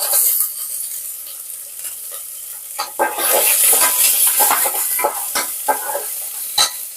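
Onions frying in a pan after whole spices, crackling and hissing loudly up close while a utensil scrapes and stirs them in repeated bursts, with several sharp clinks against the pan.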